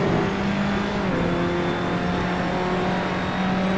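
A racing car engine in the video game Assetto Corsa, driven easily without pushing, holds a steady loud droning note that dips slightly and climbs again, alone with no talk.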